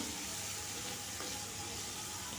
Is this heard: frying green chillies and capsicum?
yes